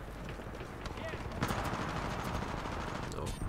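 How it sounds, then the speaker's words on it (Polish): Rapid bursts of Titanfall 2 gunfire crackle continuously, with dense machine-gun-like rattling and occasional sharper shots, loud and steady throughout. "Znowu strzelanina gdzieś za moimi plecami."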